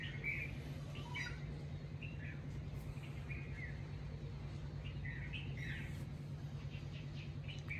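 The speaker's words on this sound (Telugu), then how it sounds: "పొద్దు పొద్దున్నే చలి గాలి విత్ దిస్ చిర్పింగ్ సౌండ్." Various birds chirp in the cold early morning air, faint and scattered short tweets at a distance over a steady low background hum.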